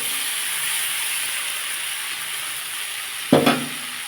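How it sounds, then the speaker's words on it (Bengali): Potatoes and broccoli fry in a pan with a steady, even sizzling hiss, broken near the end by a short clatter of stirring. "দেখুন বন্ধুরা এটাকে আমার ভালো করে ভেজে নিতে হবে"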